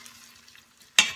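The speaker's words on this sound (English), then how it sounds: "I'm going to put in these onions, the 1 onion, and I'm going to saute this for just a few minutes" Onions drop into butter and olive oil, and after a quiet moment a sharp, close sizzle flares up loudly near the end.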